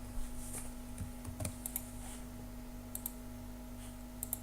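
Scattered clicks from a computer mouse and keyboard while working in Android Studio, a few soft, close taps spread over several seconds above a faint steady electrical hum.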